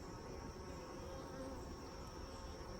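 Honey bees hum steadily inside an open hive while comb is being drawn on foundation, a dense continuous buzz with no gaps, close and fairly quiet.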